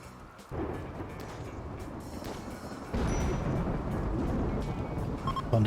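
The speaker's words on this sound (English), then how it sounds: "Thunderstorm starting fires." Thunderstorm in the video game Rimworld, a low continuous rumbling roar that swells louder partway through, with no voices over it.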